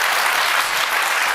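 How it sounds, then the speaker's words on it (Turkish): A television studio audience applauds loudly, a dense unbroken wash of clapping for the whole moment with no talk over it. "Bu sonuna kadar alkış."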